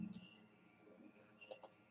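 A computer mouse clicked on an OK button while setting up an Android app menu: a couple of small, sharp, close clicks near the end over faint background hum.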